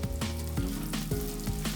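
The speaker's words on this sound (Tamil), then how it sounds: "பச்சை மிளகாவும் சேர்த்துட்டு நல்லா வதக்கிக்கலாம்." Sliced small onions and green chilies sauté in hot oil in a pan for a drumstick fish curry, a quiet close sizzle with soft scraping stirs at a regular pace.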